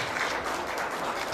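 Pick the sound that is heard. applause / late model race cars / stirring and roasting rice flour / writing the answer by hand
applause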